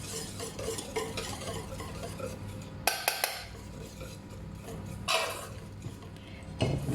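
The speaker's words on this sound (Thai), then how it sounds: "คนผสมเข้ากันก่อนนะคะ" Keto coffee cake batter being stirred in a bowl, a steady soft scraping and swishing with a few sharper clinks of the utensil against the bowl, fairly close but quiet.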